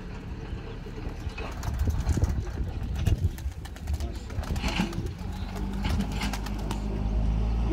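Pigeons of a Turkish tumbler breed in a coop, soft cooing mixed with bursts of wing flapping and rustling, close by, with someone talking faintly in the background.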